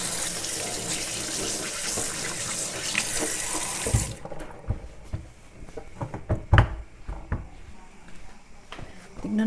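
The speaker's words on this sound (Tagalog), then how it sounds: "Maghuhugas tayo ng kamay" A kitchen tap runs in a steady gush for about four seconds while hands are washed, then shuts off, leaving scattered clinks, drips and handling knocks at the sink.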